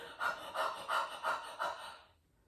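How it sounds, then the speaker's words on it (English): Low belly panting in a breathing exercise to prepare a choir: five quick, forceful breath pulses in a steady rhythm, close and clear, then fading into quiet. "the first is kind of a low panting where we're really activating the low belly wall"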